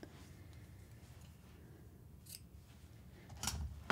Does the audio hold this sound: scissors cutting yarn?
yes